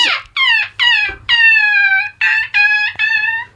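A person imitates a seagull cry blended with dolphin-like squeals during a live seagull-call contest: seven loud, close, high wavering calls in quick succession, with short gaps between them.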